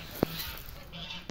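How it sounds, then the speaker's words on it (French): One short, sharp honk from a frizzle goose at a poultry farm, close by over a quiet background, with a softer call or two trailing after. "les magnifiques oies frisées"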